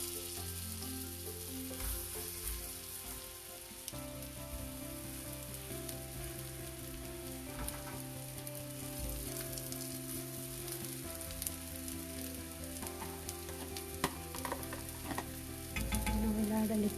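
Hara bhara kebabs sizzle in a pan of butter and oil, a continuous close crackle with faint music underneath and a louder spatter toward the end.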